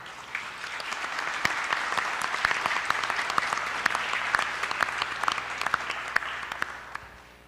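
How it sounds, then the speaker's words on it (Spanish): Applause at a national conference on social programs, a crowd clapping steadily with individual close claps popping out, swelling for several seconds and then fading away at the end. "Para todos ellos, un fuerte aplauso."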